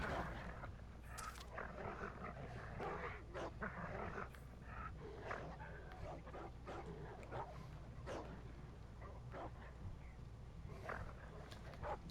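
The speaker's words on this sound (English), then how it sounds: "All these dogs." Several dogs bark, yip and whimper in the video game Ghost of Tsushima, in scattered bursts over a steady ambient game soundscape, fairly faint throughout.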